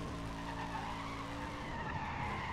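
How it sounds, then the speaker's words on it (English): A car in Need For Speed World does a burnout, with a continuous loud tire squeal over a revving engine drone, sustained without a break. "Leave you guys with a burnout session here"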